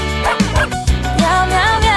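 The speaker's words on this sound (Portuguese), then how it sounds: "Ele abana seu rabinho quando late sem parar." A cartoon dog yips and barks in a bouncy children's song, the short barks landing in rhythm over bright musical accompaniment.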